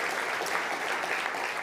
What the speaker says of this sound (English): And that's like my final round of applause.